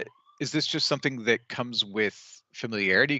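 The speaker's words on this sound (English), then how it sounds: "excuse the sirens" Faint emergency sirens wail in the background, a thin rising tone under steady, close male conversation that carries through most of the stretch.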